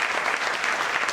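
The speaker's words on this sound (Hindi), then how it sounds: "जोरदार तालियां सर, बहुत अच्छे" Dense, steady applause from a crowd, filling the whole moment with rapid clapping at even loudness.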